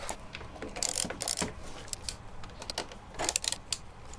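A ratchet tightens the cage on a Yamaha TZR 250 3XV motorcycle during a rebuild, giving close, quick bursts of metallic clicking with short pauses between them.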